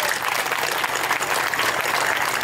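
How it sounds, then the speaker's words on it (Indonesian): A crowd applauds at the opening ceremony of a Quran-school jamboree in Madiun, a dense, loud, steady wash of clapping hands filling the whole stretch. "Aplaus."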